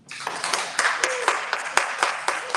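A small audience at a live book conference in San Francisco claps for a poet, sparse, distinct handclaps in an uneven rhythm, fairly close, with a few voices underneath.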